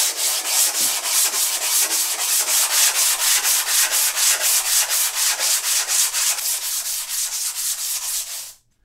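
A worn-out belt sander grinds across a stone to flatten it and strip away epoxy, a loud, close, rhythmic rasping that pulses with each pass of the belt, then stops abruptly at the end, with no voices.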